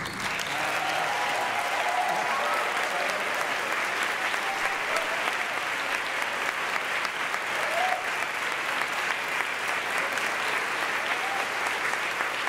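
Sustained audience applause fills a choir anniversary celebration, a dense, steady wash of many hands clapping at even loudness from start to finish, with no pause or voice rising above it.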